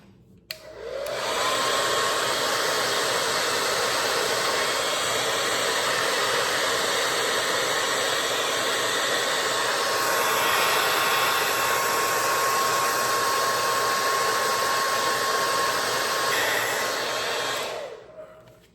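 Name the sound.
blow dryer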